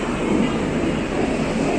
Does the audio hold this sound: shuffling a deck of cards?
no